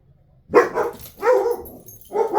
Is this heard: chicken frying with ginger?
no